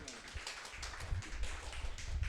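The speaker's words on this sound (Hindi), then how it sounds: "सो एक जोरदार ताली उनके लिए।" A church congregation claps in applause for the pastor, a dense patter of hand claps at steady loudness throughout with no talk.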